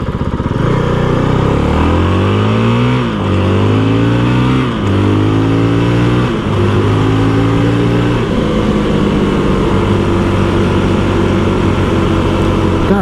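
A Honda CRF450RL motorcycle on a night ride, its engine loud and close, revving up repeatedly through several gear changes with rising pitch sweeps, then holding a steady buzzing drone.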